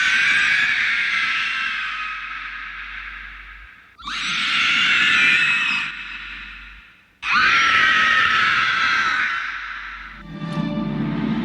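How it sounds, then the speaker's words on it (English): The shrieking scream of the Nazgul, the ringwraiths from the Lord of the Rings film, repeats three times as long, loud, piercing wails, each fading before the next, with a deeper rumble at the end. "The Nazgul, or ringwraiths, let out kind of like a shrieking scream, and the scream came out really well in the film."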